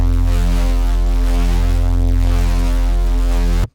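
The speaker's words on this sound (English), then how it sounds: "And then once you add the sub in" A sustained, distorted dubstep bass note with a deep, clean sine sub layer underneath, holding steady with a slight pulsing throb before cutting off abruptly.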